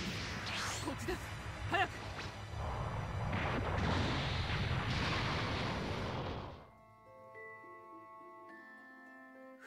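Earth blowing up in the video game Dragon Ball Xenoverse 2: a loud, rumbling blast with whooshing debris that roars for several seconds, then cuts off into quiet sustained tones.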